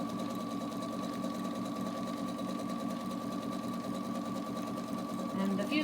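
Sewing machine stitching an embroidered scallop edge hem on fabric with fusible tearaway backing, a steady fast close whir running continuously while someone talks over it.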